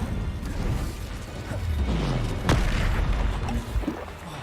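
Confringo and Incendio fire spells go off in Hogwarts Legacy, a loud boom with a sharp crack midway and rumbling, mechanical blasts around it, close and prominent.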